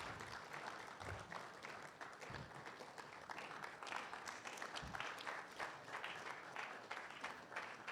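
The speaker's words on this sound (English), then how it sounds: "Please, let's keep the applause coming in until he gets to the podium." Sustained audience applause fills a hall at a Ghana Statistical Service report launch as a guest walks to the podium, dense steady clapping at moderate distance with a few stray louder claps and murmurs.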